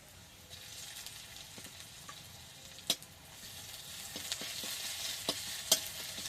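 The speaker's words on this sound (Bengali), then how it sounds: "প্রথমে দিয়ে দেব রসুন বাটা" Onions sizzle in a pan as garlic paste is stirred in, a low steady frying hiss broken by sharp spatula scrapes and clinks against the pan, close and without talk.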